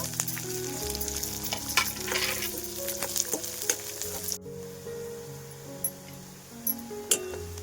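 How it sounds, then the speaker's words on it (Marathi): Chopped onion frying in oil in a pan for a moong vadi curry, giving a steady close sizzle with scattered clinks of a spoon against the pan, the sizzle dropping slightly partway through. "आता कांदा भाजून घेऊ थोडासा"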